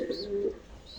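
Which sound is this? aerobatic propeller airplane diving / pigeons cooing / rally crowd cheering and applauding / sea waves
pigeons cooing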